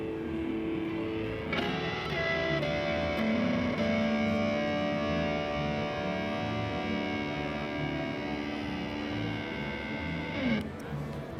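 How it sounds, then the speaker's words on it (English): Electric guitar played through a Pigtronix pedal with built-in distortion, sustained gritty chords and held notes ringing steadily for about nine seconds before cutting off. "Also has onboard grit control, so you can dial in built-in distortion."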